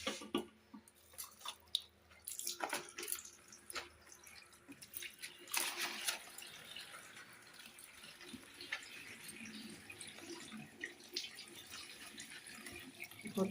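Hands washing something under a running kitchen tap, a quiet, continuous trickle of water with scattered splashes and clinks nearby.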